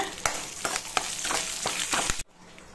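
Urad dal, cashews, dried red chilies and curry leaves fry in hot oil for betel-leaf rice, a dense crackling sizzle with sharp ladle scrapes roughly every half second, close and loud, cutting off abruptly near the end.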